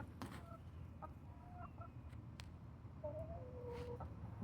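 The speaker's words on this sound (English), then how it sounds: "Oh, check out the chickens." Chickens on a small farm with a garden and water tanks cluck softly and intermittently, faint short calls over low outdoor background noise.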